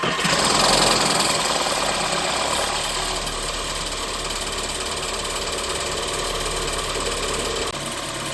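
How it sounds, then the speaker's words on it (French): Volkswagen 1.4 TSI engine, just reassembled, idling steadily and loudly after starting, with a busy mechanical clatter and faint metallic rattle running throughout and no talk. "on retente le démarrage en espérant qu'il n'y ait plus aucun bruit"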